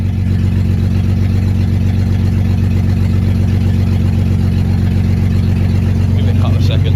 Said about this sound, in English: It was low on fuel. Misfiring quite bad.